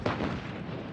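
A grenade explosion in Call of Duty MW3 multiplayer on PS5, one loud booming burst that fills the moment and rumbles briefly.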